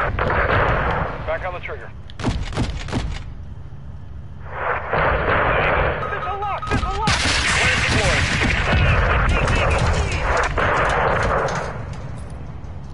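Booming artillery fire and missile explosions from a PS4 combat game, heavy, continuous rumbling blasts with sharp cracks, loud and near, with a voice speaking briefly over the barrage.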